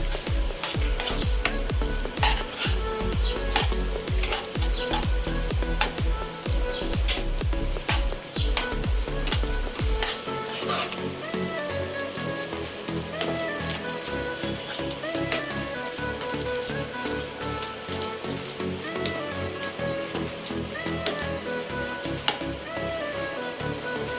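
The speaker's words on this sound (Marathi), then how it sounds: "लगेच आपण त्याला व्यवस्थित हलवून घ्यायचं आहे" A spoon stirs semolina in a pan for rawa chakali, scraping in quick repeated strokes with steady sizzling, close and loud throughout.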